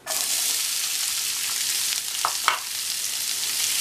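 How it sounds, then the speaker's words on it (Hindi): Four medium chopped onions dropped into oil with cumin browned lightly, frying into a loud, steady, close sizzle that runs throughout, with a couple of brief stirring scrapes near the end. "4 मीडियम प्याज को चॉप कर लिया है ये डाल देंगे"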